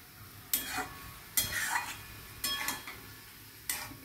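Spinach with poppy seed paste (palong posto) and potato being stirred in a pan, with four separate bursts of spatula scraping and soft sizzling, each fading back into a quiet background.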